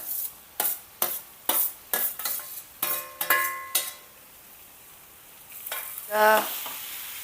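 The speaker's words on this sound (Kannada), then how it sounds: "ಬೇಳೆ ಮತ್ತು ಹೀರೆಕಾಯಿನ ಚೆನ್ನಾಗೆ ಮಿಕ್ಸ್ ಮಾಡ್ಕೋಬೇಕು" Ridge gourd palya with toor dal fries in a pan while a spoon stirs it, scraping in a quick regular rhythm of about ten strokes, then a louder sizzle swells near the end.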